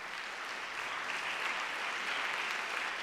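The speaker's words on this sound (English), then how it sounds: "how about a round of applause for these folks?" Applause from a live podcast audience at the end of a discussion, a soft, even patter of clapping held steady for a few seconds, fairly faint and distant.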